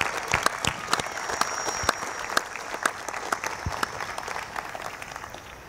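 Graduates and families at a high school commencement applaud together, a continuous wash of clapping with sharper individual claps popping out, fairly close and steady with no talking over it.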